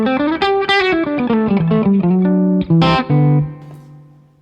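An electric guitar played clean through a SuperConductor boost pedal in EP mode, a short melodic line of plucked notes that ends on a sustained note fading out, loud and close with no talking.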